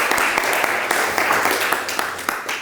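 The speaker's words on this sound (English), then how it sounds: "give them a round of applause" An audience claps in a brief burst of applause, a dense patter of hand claps close by, fading slightly toward the end.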